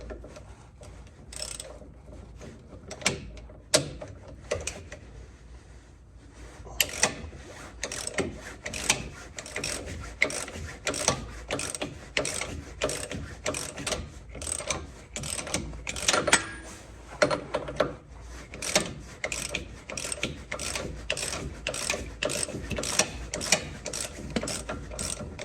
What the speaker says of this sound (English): now we're gonna take a 5/16 socket and put it on there and work on breaking that one off